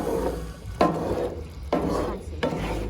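Apples being stirred as they fry on a Blackstone griddle, a steady sizzle broken by a few louder scraping strokes of a spatula across the hot flat-top, close and alone without talk.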